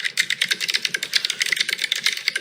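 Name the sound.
typing on a mechanical keyboard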